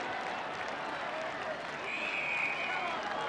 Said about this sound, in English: Big crowd here at North Hobart, and the Magpie part of it ecstatic at the moment.